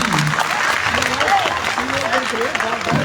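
An audience claps at a spiritual discourse held in Kesarahatti village. The applause is moderate and steady, with a voice speaking clearly over it.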